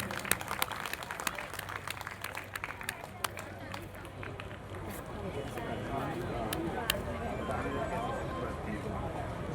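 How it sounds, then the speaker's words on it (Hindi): An audience at an Uttarakhand Silver Jubilee celebration at Delhi Haat, Pitampura, claps, sharp scattered claps at first building into continuous applause heard from within the crowd, with voices mixed in. "जोरदार तालियां आपकी।"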